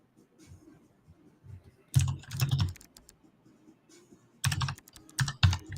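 Bursts of fast typing on a computer keyboard, close and clear, with two dense flurries of key clicks separated by quieter scattered taps and pauses.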